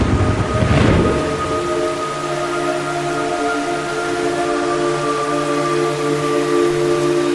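Rain and thunder in the video game Metal Gear Solid 3: a steady, loud downpour hiss with a thunder rumble near the start, over sustained tonal droning that runs throughout.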